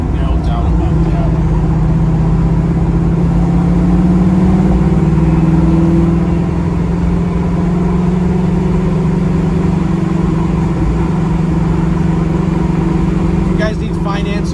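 A 1969 Chevrolet Camaro Pro Touring engine runs loud and close with a steady, deep rumble that rises slightly in pitch at times, while someone talks throughout.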